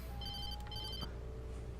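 Telephone ringing inside the video game Alan Wake, a short faint electronic ring tone over a low ambient game hum.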